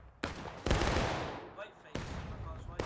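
Musket volleys in the Civil War game War of Rights on the Bolivar Heights map, two sharp ragged bursts of massed gunfire with rolling echoes that fade between them, and a brief shout in the mix.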